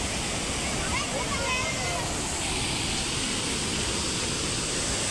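Water pours over the partly opened gates of the overflowing Hamirpara dam as a loud, steady roar close by, with people talking faintly underneath.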